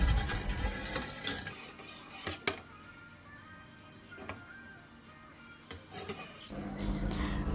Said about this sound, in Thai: ใช้ไฟปานกลางคนไปเรื่อยๆจนน้ำตาลละลาย